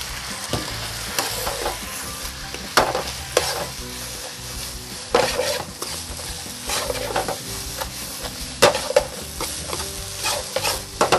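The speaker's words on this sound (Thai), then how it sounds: "จากนั้นเสร็จแล้วผมก็ใส่ปลาดุกที่ทอดฟูลงไปครับ" Crispy fried catfish is stir-fried in curry paste, with a steady sizzle and repeated scraping, clattering strokes of a utensil in the pan. The sound is close and continuous, with no talking.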